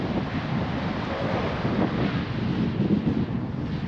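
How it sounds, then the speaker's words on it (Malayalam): Strong wind gusts buffet the microphone beside a lighthouse on a lakeshore at Port Dalhousie, a continuous low rushing roar with surf-like swells, no voices. "നിങ്ങൾക്ക് വിൻഡ് ഇതിനകത്ത് കേൾക്കാൻ പറ്റുമോ എന്നറിയില്ല"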